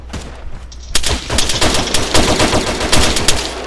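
Rapid bursts of automatic gunfire in a video game, a weapon being unloaded: after a quieter opening second, loud, close shots crack in a fast, uneven stream that continues to the end.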